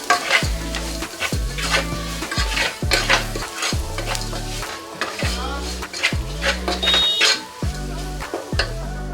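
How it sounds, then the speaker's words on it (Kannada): Chili powder, coriander powder and salt frying in a pan for egg masala, with brisk rhythmic spatula scrapes and clanks over a steady sizzle, close and loud, with no voices. "ಇದೆಲ್ಲ ಹಾಕ್ಕೊಂಡು ಫ್ರೈ ಮಾಡ್ಕೊಳ್ಳೋಣ."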